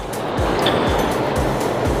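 Ocean waves break and wash onto the shore in repeated surges, a continuous rushing roar close at hand, with no talk over it.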